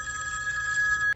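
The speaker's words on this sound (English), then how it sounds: "again, when your ringtone is actually on" A BLU View 3 phone rings with a steady electronic ringtone, one bright sustained tone that plays alone and close before cutting off abruptly at the end.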